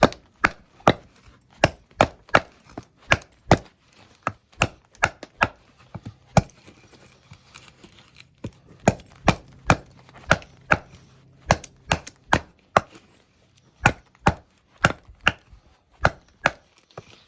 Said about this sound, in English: Still a pretty light knife, but it does chop pretty good.